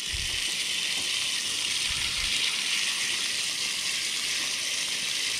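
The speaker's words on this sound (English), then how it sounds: "I'm just going to rinse it off really well." Water runs steadily over a Shimano Stella 5000 SW B spinning reel during rinsing, a constant close hiss with no talk.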